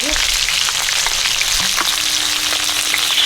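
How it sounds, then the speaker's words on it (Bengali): Tilapia fish frying in a wok-like kadai, a loud, dense, continuous sizzle close up, with a couple of faint clinks partway through. "এদিকে তেলাপিয়া মাছ ভাজা হচ্ছে"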